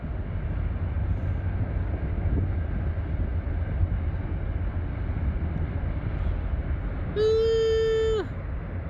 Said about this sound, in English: I'm so lucky the train went by when I was here.